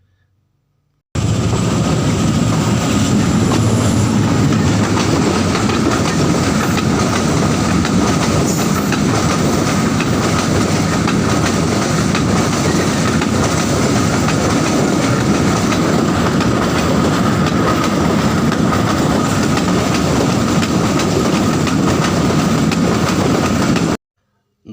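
A train runs along a railway line near Gujrat, a loud, continuous rumble with rhythmic wheel clatter sustained for over twenty seconds as it passes close by, with no talking.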